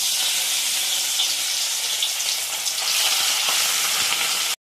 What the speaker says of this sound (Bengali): গরম তেলে মাছগুলো ভালো করে ভেজে নিচ্ছি